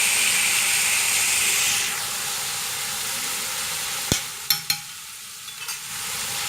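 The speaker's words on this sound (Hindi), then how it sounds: "आपने लहसुन अदरक को फ्राई करना है" Garlic and ginger fry and get stirred in a pan, with a steady close sizzle and hiss that drops slightly after a couple of seconds. A few sharp utensil clinks against the pan follow near the end.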